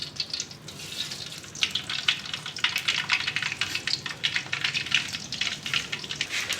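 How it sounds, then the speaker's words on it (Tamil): Mustard seeds spluttering in hot sesame oil while a tempering for lady's finger tamarind curry is made: a dense, continuous crackling sizzle with rapid popping bursts throughout, fairly close and steady. "எண்ணெய் சூடாகிட்டு கடுகு சேர்த்துக்கிறேன்."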